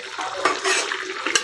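Curry with rohu fish, potato, cumin and coriander leaves is stirred in a pan, making short scraping and clinking utensil strokes over a soft sizzle, close and fairly loud.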